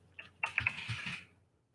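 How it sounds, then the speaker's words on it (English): A quick burst of clacky keystrokes from a mechanical keyboard, several rapid taps close together, then the typing stops and fades to quiet. "you're going to hear my keyboard because I have a mechanical keyboard"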